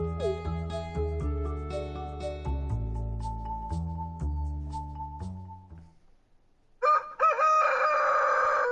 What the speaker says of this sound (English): Oh, the famous cock-a-doodle-doo.